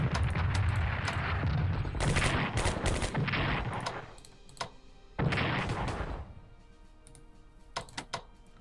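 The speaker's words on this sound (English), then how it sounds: "Let's do some strikes. Use our heavy artillery." Heavy artillery strikes in the World War II strategy game Strategic Command WWII: loud bursts of crackling gunfire and explosions in several dense volleys, with sharp isolated shots between them.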